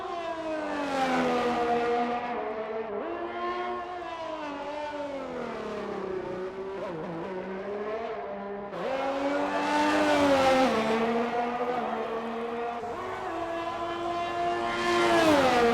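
A race car engine on a flying lap at the Australian Grand Prix circuit in a racing video game: a close, whining harmonic tone that rises and falls through repeated gear changes, alone without talk.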